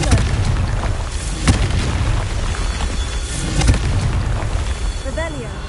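Confringo blasting spell explosions in the game Hogwarts Legacy, with loud booming bursts near 1.5 and 3.7 seconds over a dense, rumbling battle din, and some voice-like sounds mixed in.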